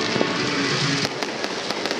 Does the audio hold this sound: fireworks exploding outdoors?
yes